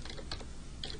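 Several quick keystrokes on a computer keyboard, faint clicks in two short clusters with a gap between, close by and without any voice.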